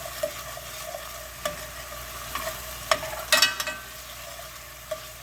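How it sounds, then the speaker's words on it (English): Vegetables for chicken gumbo are stirred in a pot over a low simmer, with a quiet background hiss and sporadic spoon scrapes and clinks, one brief cluster louder than the rest. "I am going to kind of move my veggies around a little bit."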